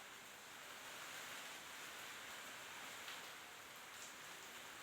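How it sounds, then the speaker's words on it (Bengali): Heavy rain pours steadily during a cyclone storm as strong wind blows. The noise is a dense, constant wash, loud and unbroken for the whole stretch, with no voices. "দেখেন তেমে তেমে বৃষ্টি, তেমে তেমে বাতাস, খুব প্রচণ্ড বাতাস"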